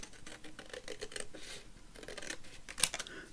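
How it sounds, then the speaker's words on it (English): Scissors snipping around a small piece of card for a collaged journaling card, a quiet run of short crisp cuts close by, with one sharper snip near the end. "Let's hope this one's dry enough to cut round without it moving everywhere."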